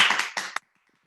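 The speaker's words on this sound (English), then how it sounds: "So unmute yourselves and clap." Several participants in an online open mic clap over unmuted connections, a brief burst of uneven, slightly clipped claps that stops abruptly into silence after about half a second.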